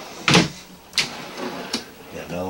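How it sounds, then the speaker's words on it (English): A deep kitchen drawer in a 2019 Aria 3901 RV is pulled out, a few short sliding thumps and clunks heard close up while someone speaks. "this does pull out here. You can see, look at how deep that drawer is."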